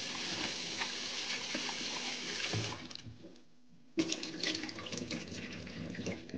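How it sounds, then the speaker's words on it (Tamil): Rice is washed in water by hand for Sri Lankan kundu dosa batter, a loud, continuous sloshing and swirling that drops almost to silence for about a second before resuming with splashes. "எடுத்து வச்சுருக்கிற அரிசியை நல்லா தண்ணியில் கழுவி நல்லா தண்ணியில் கழுவிட்டு தான் உருவாகும்."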